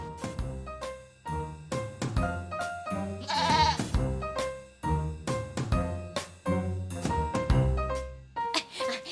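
A goat gives a short, wavering bleat midway through, set against a steady run of bright, plucked melodic notes that fill the rest of the clip.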